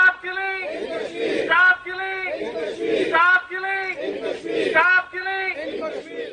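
Crowd of Pakistani and Kashmiri community members chanting slogans for Kashmir's freedom at a solidarity gathering in The Hague, voices rising in repeated rhythmic bursts of call and response.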